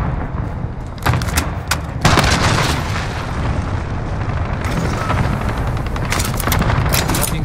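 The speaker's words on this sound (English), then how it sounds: "Enemy cruise missile." A cruise missile blast in Call of Duty: Modern Warfare: loud, continuous booming rumble with sharp bursts of gunfire layered over it, filling the whole stretch with dense battle noise.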